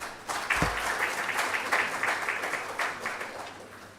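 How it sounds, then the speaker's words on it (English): A conference audience applauds after congratulations at a genomic medicine building event, steady broadband clapping sustained for several seconds at moderate level, with a brief low thump near the start. "Once again, a round of applause."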